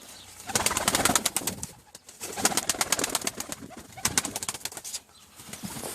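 Aksaray pigeons at close range coo softly while wings flap in quick repeated clattering bursts, several flurries rising and fading across the stretch.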